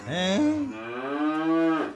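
A cow moos in a single drawn-out, rising and falling bellow lasting about two seconds, loud and close with no talk over it.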